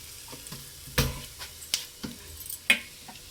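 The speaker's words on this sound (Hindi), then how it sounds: "अब डाला जीरा, और फिर डालेंगे थोड़ी सी हींग" Cumin seeds and a little asafoetida drop into hot oil for a leafy-greens snack, giving a quiet sizzle broken by a few sharp clicks and taps of a spoon against the pan, with no voices.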